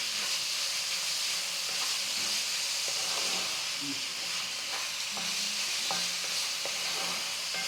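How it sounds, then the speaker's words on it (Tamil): Soya cutlet mixture with onions frying in a pan, a steady close hiss and sizzle with intermittent stirring scrapes and taps of a spoon throughout, no talk. "இதை கொஞ்சம் நல்லா ஒரு 5 நிமிஷம் ஃப்ரை பண்ணலாம்"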